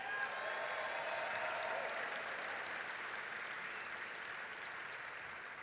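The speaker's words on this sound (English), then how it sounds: "So another round of applause for Ray Curry." Sustained applause from a large crowd at the Detroit Auto Show, a dense steady wash of clapping that holds at an even level, slowly easing off slightly toward the end.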